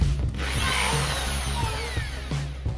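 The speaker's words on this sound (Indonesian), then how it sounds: "Sekarang saya arahkan sebelah kanan, maka perputaran bornya ke sebelah kiri." A Krisbow 13mm electric impact drill whirs steadily at close range, running in reverse, its motor spinning continuously with a slight pulsing hum throughout.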